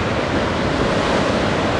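Ocean surf at Anglet beach, a loud, dense, continuous wash of breaking waves mixed with wind buffeting the microphone, no voices.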